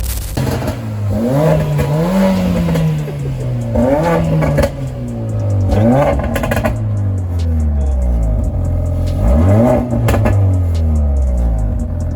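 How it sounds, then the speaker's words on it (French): A car engine at a used-car dealer's lot starts and revs repeatedly, rising and falling in several loud, close surges over about twelve seconds. "Il a démarré sa voiture."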